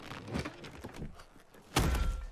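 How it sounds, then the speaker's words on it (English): A bag in the anime The Eminence in Shadow rips off a shoulder and lands with a single heavy metallic thud, preceded by faint rustling and shuffling. "the bag he's carrying rips off his shoulder with a metallic thud"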